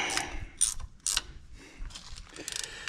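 A ratchet clicks in short bursts while turning bolts to remove the water pump from a Minneapolis-Moline UTU tractor, close and fairly quiet, with pauses between runs of sharp metallic pawl clicks.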